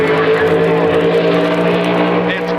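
A 1960s AA fuel dragster roars in a drag race, a loud, sustained engine drone with strong harmonic tones and little change across the run.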